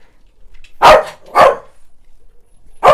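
A dog barks twice close by, a short pause between the barks, then a third bark begins at the end.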